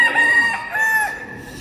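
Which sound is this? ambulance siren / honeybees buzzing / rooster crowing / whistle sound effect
rooster crowing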